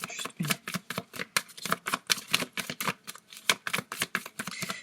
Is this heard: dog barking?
no